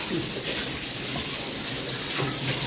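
Water runs steadily from a household tap during washing, a continuous broadband splashing hiss with no talk over it.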